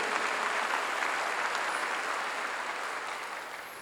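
Applause from a church congregation during a pastor's sermon, a dense steady wash of many hands clapping that fills the space and tapers slightly toward the end.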